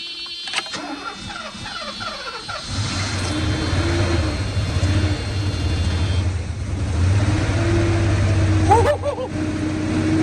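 A Mercedes 420SEL starts on its first attempt after sitting and settles into a steady, fairly loud idle running straight off the gas tank, with cranking and sputtering at the start, then a continuous rumble and a brief rev.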